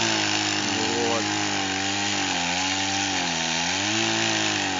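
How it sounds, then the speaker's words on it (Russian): A chainsaw cutting into a tree. The engine drones loudly and continuously, and its pitch dips and wavers as it bites under load; a voice talks over it throughout. "Мы с вами видим, как краб пилит дерево"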